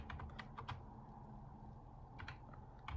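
A command typed on a computer keyboard: a quick burst of close key clicks, a pause, then another short run of keystrokes.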